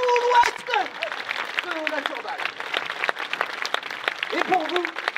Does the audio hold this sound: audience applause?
yes